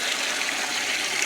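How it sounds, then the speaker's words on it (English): Boiling water pours steadily from a bucket into a cooler for an RIT dye bath, a loud, continuous, splashing gush with no talk over it. "Now we're going to start pouring that boiling water"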